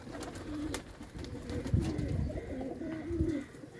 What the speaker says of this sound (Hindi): आ रहे हैं ऊपर से नीचे कबूतर, अभी और भी आ जाते हैं।